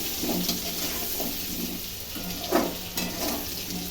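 Potatoes fry in hot oil with a close, continuous sizzle, broken by a few soft bursts and clatters as the pieces are moved about in the pan.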